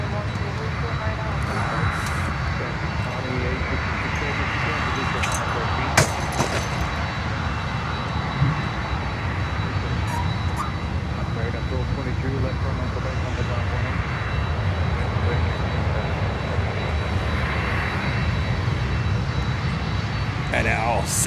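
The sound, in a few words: DHL Boeing 747 cargo jet landing on runway 12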